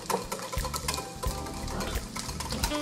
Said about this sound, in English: And you just have to keep whisking